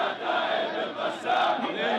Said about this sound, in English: The crowd chants slogans in praise of the Al-Qassam brigades